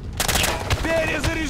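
Bursts of machine gun fire crackle in a rapid fusillade during a combat scene in Operation Flashpoint: Dragon Rising, with a voice shouting over the shots.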